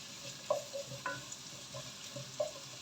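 Potato and green peas curry being sautéed in a pan, with a few soft scraping stirs over a faint, quiet sizzle and no talking.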